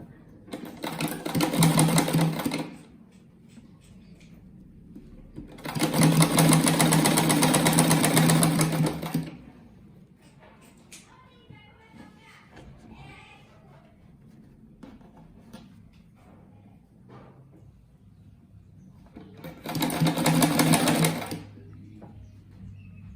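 A sewing machine stitches patchwork rug pieces in three separate bursts of fast, close mechanical whirring, with quiet handling noises and faint talk between runs.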